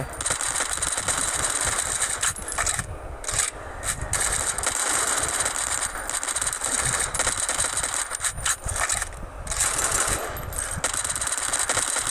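Rapid MP5 submachine gun fire in a SWAT video game, dense continuous bursts with game ambience filling the whole stretch, loud and steady with brief dips between volleys.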